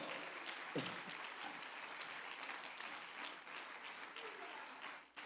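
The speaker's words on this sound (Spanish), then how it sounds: "a alguien que dé un aplauso con sus manos" A church congregation applauding during a sermon, a steady wash of clapping that holds at an even level throughout and drops briefly near the end.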